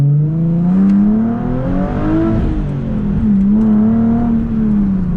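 A Nissan 370Z Nismo on 285/35 rear tires accelerates hard, its engine note loud and close, climbing in pitch, dipping briefly at a gear change, then rising again.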